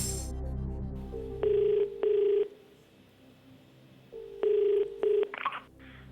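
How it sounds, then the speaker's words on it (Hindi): A telephone call is placed to Delhi from a quiz show set, with a crowd murmuring at first, then two pairs of long electronic ringing tones separated by a pause, heard clearly and loudly on their own. "कंप्यूटर महाशय, निर्मल कुमार जी को दिल्ली में फोन लगाया जाए।"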